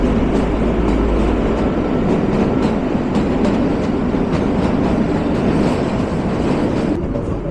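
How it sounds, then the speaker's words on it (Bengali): Kalka–Shimla toy train running through tunnel 17, a steady close roar of wheels and carriages with clickety-clack rail rhythm and occasional metallic squeals, continuous and loud throughout. "আর এদিকে আমাদের ট্রেনও ছুটছে"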